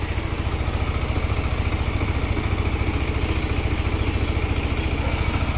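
A cold Honda CBR motorcycle engine idles with a steady, rapid, even putter, loud and close, running alone with no talk.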